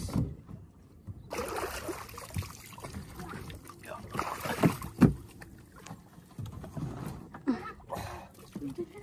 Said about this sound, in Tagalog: sakay na kami bangka at pauwi na kami sa amin.